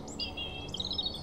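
Small birds chirp and tweet in the adventure game Broken Age, a few bright, quick high-pitched calls over a soft low ambient bed, with no talking.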